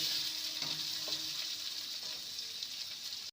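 Chopped onion fries lightly in a pan of oil, a soft continuous sizzle with a couple of quiet spatula scrapes and taps, fairly faint and close.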